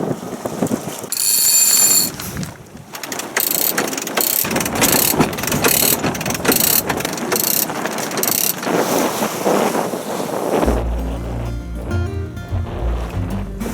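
A sailboat winch ratchets while the sails are hoisted, a rapid, loud clicking in repeated bursts up close, followed by a rumbling, rain-like wash near the end.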